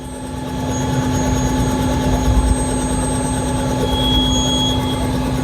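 A helicopter's rotor spins steadily at an aviation cargo terminal, a continuous loud whirring drone with a strong engine hum that holds level throughout, without any talk.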